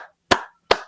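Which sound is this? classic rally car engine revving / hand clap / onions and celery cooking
hand clap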